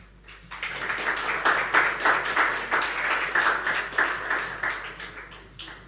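Audience clapping for a hackathon team at a techathon event, a steady patter of many hands building up after a moment of quiet and continuing moderately loud throughout, with a few louder bursts.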